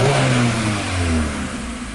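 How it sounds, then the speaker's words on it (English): A 2015 Hyundai Accent engine runs with a rough, rich-running fault, giving a loud, close mid-pitched drone that swells and dips slightly as it revs. "The vehicle is running."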